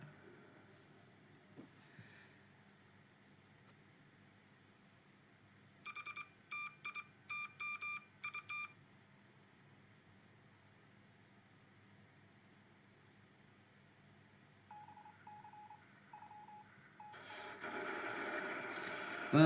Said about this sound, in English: And the submarine sinking sound.